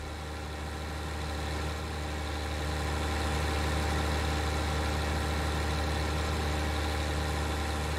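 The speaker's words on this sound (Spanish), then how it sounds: "Es el New Holland. Es el primer tractor que compramos aquí en esta granja." A New Holland tractor engine idles and revs in Farming Simulator 19, a steady low diesel drone that swells slightly and holds loud and even throughout, with no talk.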